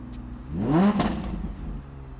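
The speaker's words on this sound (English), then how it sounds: "And then I'm going to give it a few revs, so listen to this." A 2022 Audi R8 V10 Performance engine revs up sharply, rising in pitch to a peak, then settles back to a steady idle rumble, close by.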